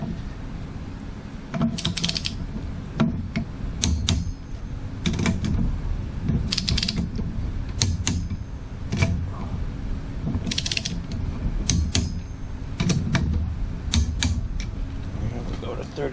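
A ratchet wrench tightens cylinder head bolts on a 440 engine, with bursts of rapid clicking and metallic clinks between pauses as someone speaks at times.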